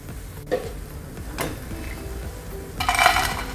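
Cheeselings frying in hot oil in a pan give a steady soft sizzle, with a few brief utensil clinks and a brighter burst of crackling near the end.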